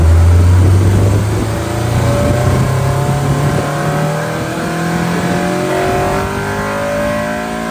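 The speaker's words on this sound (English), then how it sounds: "I want to listen to the motor." A Honda CRX engine, recently converted to a hydro transmission, revs loudly and steadily with rising and falling pitch, the engine note climbing through the gears close by with no talking.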